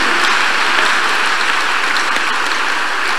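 A congregation at a Thursday deliverance church service breaks into dense, loud applause, a steady roar of many hands clapping throughout without a break.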